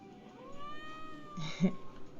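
Pinky the cat in My Time at Portia lets out a single drawn-out meow that rises to a sharp peak, soft and close over a quiet game-music background.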